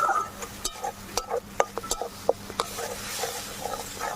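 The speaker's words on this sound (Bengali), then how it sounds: "এবারে মশলাটা ভালো করে কষিয়ে নিতে হবে" A spice masala stir-fried in a pan with coriander powder and a little water: scattered close scrapes and taps of a spoon against the pan over a faint background sizzle, uneven in rhythm.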